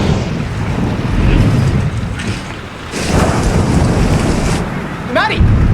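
A thunderstorm in a TV drama rumbles in low, rolling waves with gusting wind-like noise that swells and fades, ending with a brief rising whistle-like tone.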